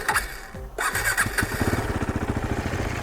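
A 2017 KTM 390 Duke motorcycle engine cranks briefly, catches and fires up, settling into a close, rapid, throbbing idle.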